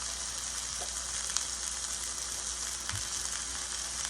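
Greek-style chicken fries in a pan with a steady, close hiss of sizzling oil that holds even throughout, with a couple of faint pops and no voices.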